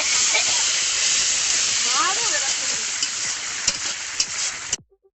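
Eel pieces frying in a pan hiss and sizzle steadily while being stirred, with scraping stirs audible under the continuous loud frying until it cuts off abruptly.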